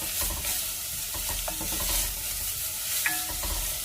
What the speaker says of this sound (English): Now I'm gonna add my onion, carrot, and celery. Gonna go with a pinch of salt and saute.